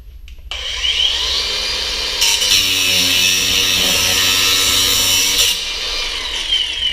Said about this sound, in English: So let me just take a grinder and we'll just cut off the